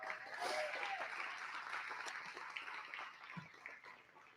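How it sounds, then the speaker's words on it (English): Clapping from an audience at a film festival awards ceremony, a dense and steady spread of hands that peaks early, then thins a little with scattered louder claps and a thump near the end. "Round of applause for Ashland."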